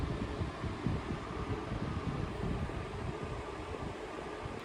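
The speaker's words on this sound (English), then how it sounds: "noise you can hear is the fan I run at night" Steady electric fan running at night, a continuous soft broadband whoosh with a low rumble, close and even throughout with no talking.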